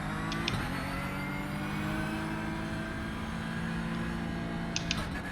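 A race car engine in iRacing holds a steady, moderately loud drone with stable harmonics, climbing through the gears to around third, with faint brief clicks near the start and end.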